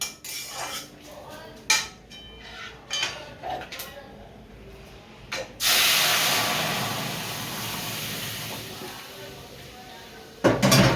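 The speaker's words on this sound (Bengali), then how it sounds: "এবার আমি এর মধ্যে ডালটা ঢেলে দেবো।" Masoor dal poured into hot oil with fried curry leaves, a sudden loud wet sizzle and hiss that starts after a few light clinks of utensils and slowly fades as it settles, with another burst of scraping at the end.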